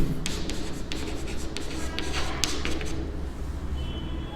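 Pen writing on paper during a maths lesson, close scratchy strokes in short bursts with brief pauses between words, no talking.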